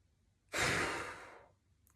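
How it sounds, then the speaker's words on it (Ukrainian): One strong exhale during kundalini yoga breathing, a single breathy whoosh about a second long that starts abruptly and fades, close to the mic in an otherwise quiet room. "Потужний видих."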